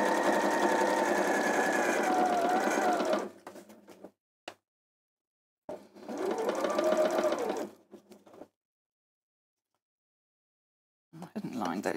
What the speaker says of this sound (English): Quickly stitching round.